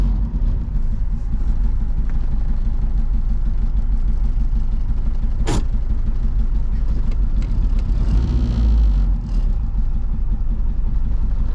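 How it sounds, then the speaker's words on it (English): Damaged triple-turbo Honda Civic engine idling roughly, a loud, steady low rumble that runs throughout with slight unevenness and a brief surge near the end. "Let's see if it'll idle right now."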